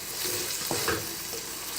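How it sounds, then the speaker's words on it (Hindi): Keema (minced meat) fries over high heat with a soft, steady sizzle, and a couple of brief stirring scrapes cut through near the middle. Quiet and close, with no talking. "5 मिनट अच्छी तरह भूनना है कीमे को।"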